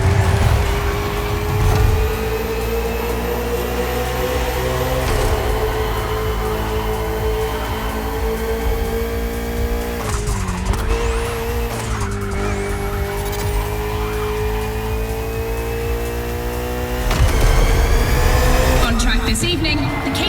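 A KTM RC16 motorcycle and a Ferrari 488 GT3 race in The Crew Motorfest, a Red Bull Speed Clash video game event, with steady loud high-revving engine drone, shifting pitch and tire squeal throughout, with no talk.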